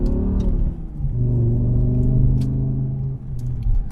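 A naturally aspirated V10 engine in a BMW M6 rumbles steadily and loud throughout, with a swelling rev and a brief dip near the three-second mark, heard alone without talk.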